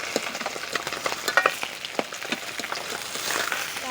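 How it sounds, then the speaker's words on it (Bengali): Koi fish frying in oil in a pan, a moderate crackling sizzle with scattered sharp pops and spatters running steadily throughout, no voices present. "মাছ ভাজা হয়ে এসেছে, এবারে আমি ছেঁকে নেব মাছগুলোকে"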